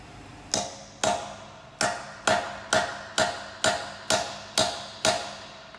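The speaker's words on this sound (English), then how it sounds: "we're going to hammer it." Nine sharp metallic hammer blows, evenly spaced about half a second apart, drive a twist socket onto a car wheel lock; each strike rings briefly and decays, close and loud with no other sound.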